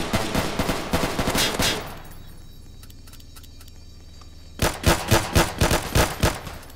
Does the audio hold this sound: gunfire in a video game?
yes